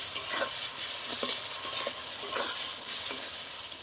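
Ground chilli, ginger and garlic paste fried with onion and tomato in a pan for a fish curry crackles in a steady close sizzle, punctuated by several spoon taps and scrapes while stirring, with no talk.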